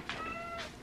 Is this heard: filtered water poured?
no